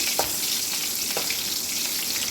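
Shallots and a few garlic cloves fry in oil in a pan while cooking a stinging-nettle leaf stir-fry, giving a steady, close, even sizzle with a couple of soft pops and no voices.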